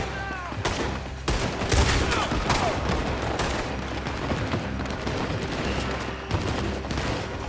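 Rapid gunfire in a Red Dead Redemption 2 shootout on PS4, repeated loud shots and volleys crackling over several seconds with booming reports and some voices in between.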